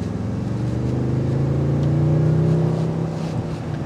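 Cabin view of a 2023 Toyota Tundra 1794 Edition pickup accelerating, its engine note droning steadily and climbing smoothly in pitch, muffled by the well-sealed interior, with a constant low rumble throughout.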